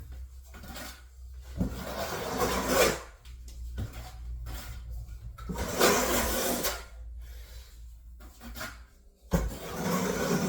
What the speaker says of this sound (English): I'm only using the front quarter of my trowel so I don't get a big bunch of mortar over here.